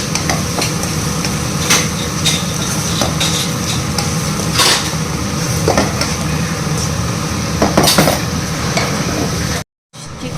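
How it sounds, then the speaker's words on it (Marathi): Salted onion frying in a pan while being stirred, a constant loud sizzle with scraping and metallic clinks of a utensil against the pan, a brief cut near the end, no talk. "कांदा थोडासा लाल व्हायला ठेवूया."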